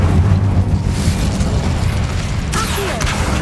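A fiery Incendio spell blast in the video game Hogwarts Legacy erupts as a loud, rumbling burst that crackles on and ends with a brighter hissing flare.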